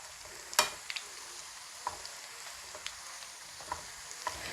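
Sliced onions frying in hot oil with two dried red chillies sizzle in a steady, quiet hiss, broken by a few sharp clicks of a spoon stirring the pan.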